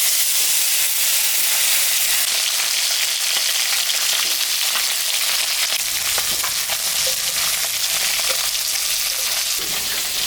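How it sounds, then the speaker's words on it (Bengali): Salted, turmeric-rubbed koi fish frying in hot oil, a loud, steady, dense sizzle and crackle that runs without a break throughout, close up and with no talking. "আমি এখন মাছটা ভাজব।"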